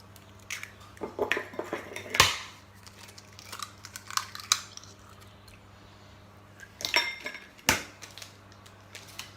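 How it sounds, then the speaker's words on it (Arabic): Eggs are broken up in a bowl with a utensil, giving quiet, irregular clinking and scraping taps at close range. "فاول حاجه غادي نهرسوا البيض"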